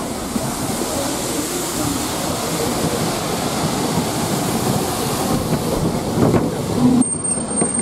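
A train on a mountain railway rumbling along in a broad, steady roar with faint rhythmic rail clatter, heard from on board at constant loudness, a brief thump and tone near the end.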